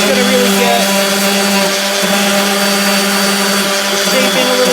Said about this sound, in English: I'm going to sand this by machine.